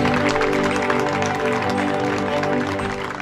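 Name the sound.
audience applause for the roofing workers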